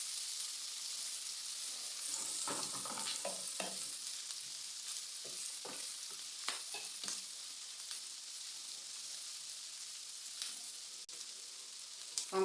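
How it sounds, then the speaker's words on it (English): Vegetables stir-frying in a pan on very low heat for a chicken in tomato and pepper sauce dish, a faint constant sizzle broken by repeated clinks and scrapes of stirring, close up and with no talking. "you stir fry so it doesn't burn"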